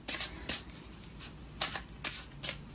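Twin Flame tarot cards by Mystic Moon being drawn from the deck: several quick, soft card slides and flicks in close succession, quiet and near, with no voice.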